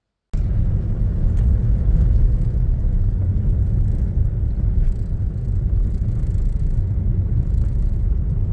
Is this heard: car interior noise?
yes